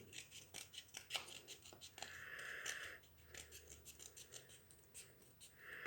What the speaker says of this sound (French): et là, je vais couper tout autour